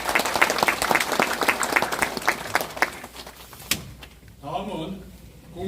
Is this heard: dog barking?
no